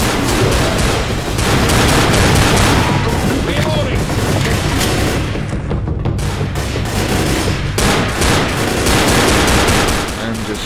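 Sustained automatic gunfire against a zombie horde in Left 4 Dead, on the Blood Harvest woods and tunnel stage: loud, dense, continuous shooting with heavy booming rumble, easing only briefly once before resuming, with a voice speaking at points.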